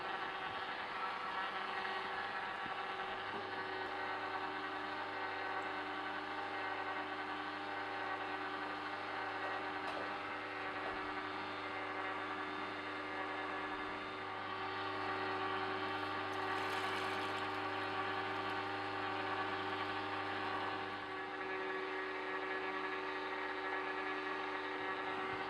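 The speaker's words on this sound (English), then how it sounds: "So I'm juicing 5 oranges here." A Sana Horeca EUJ-909 juicer runs steadily while juicing oranges, giving a continuous motor whir with a low hum that holds at an even level throughout, alone with no voices.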